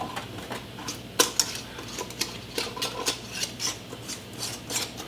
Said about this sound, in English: So as I screw on the lids